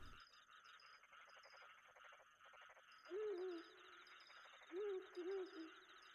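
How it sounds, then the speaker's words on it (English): Owl-like hooting from the video game In Stars and Time sounds twice, wavering and soft, over a steady electronic hum and a tinkling background score. "It sounds a bit like a person trying to do an owl impersonation."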